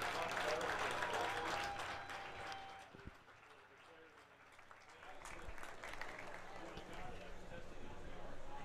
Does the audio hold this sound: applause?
yes